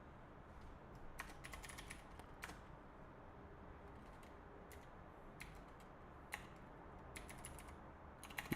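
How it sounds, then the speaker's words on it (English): Typing on a computer keyboard, quiet close key clicks coming in irregular bursts and short runs over a low steady background hum. "Nice typing."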